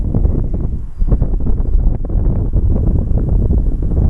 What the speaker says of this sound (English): Wind is still blowing pretty good